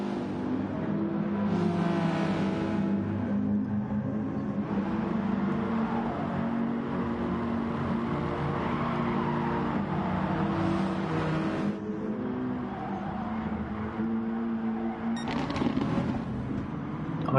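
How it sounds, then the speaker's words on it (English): A Hyundai race car engine in a racing video game drones steadily at high revs down a straight, with shifting pitch and brief rises as the car accelerates, loud and continuous throughout. "Obviously we will see that with the speed the Hyundai in slipstream down that main straight."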